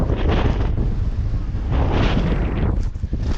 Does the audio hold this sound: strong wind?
yes